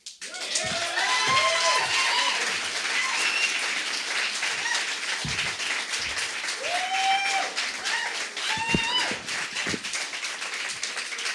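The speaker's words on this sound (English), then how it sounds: "Continue your applause for Heidi Greco, ladies and gentlemen." An audience at a Friday night beer slam poetry event applauds after a reading, with loud, sustained clapping. Whoops and cheers rise above it, and voices call out now and then.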